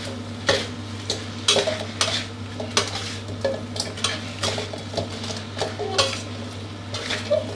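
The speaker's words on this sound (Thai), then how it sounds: "ผัดคลุกเคล้าให้ พริกแกงเคลือบปลาดุกให้ทั่วเลยนะครับ" Catfish being stir-fried with red curry paste in a pan over high heat, a spatula scraping and clanking the pan in a steady rhythm over a constant sizzle and burner hum, close and fairly loud.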